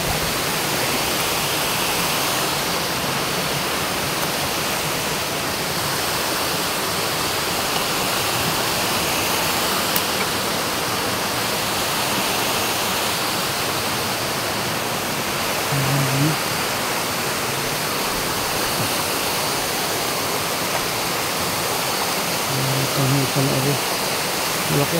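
Constant broadband rush of the swollen Kailaw river running high, loud and close throughout, with a few faint low tones rising briefly above the water noise.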